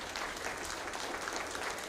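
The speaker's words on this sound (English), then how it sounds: "Please give him a round of applause." An audience at a college town hall on a presidential transition claps together, a dense, steady burst of applause filling the room throughout.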